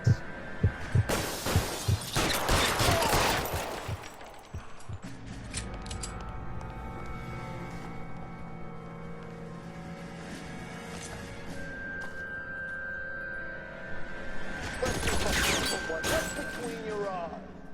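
Gunfire in the 1940s Los Angeles detective game L.A. Noire: two loud, dense bursts of shots, one at the start and one near the end, separated by quieter stretches of hum and someone talking.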